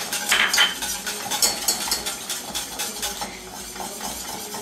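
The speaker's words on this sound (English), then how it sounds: "You just put it in there, whisk it very well," A whisk clatters briskly against a bowl, beating a gelatin and milk mixture into panna cotta with rapid, bright metallic clinks and scraping strokes that carry on steadily throughout.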